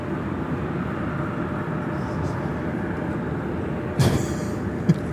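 An American Airlines A319 airliner takes off at LAX, producing a loud, steady broadband engine roar that continues throughout with a brief louder burst near the end.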